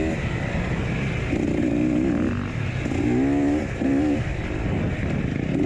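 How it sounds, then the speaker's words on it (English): A motorcycle engine in the TORCS racing game at Goertz Ranch revs loud and close, its pitch rising and falling in repeated surges over a steady droning idle. "I actually do end up grabbing my clutch in and revving my engine"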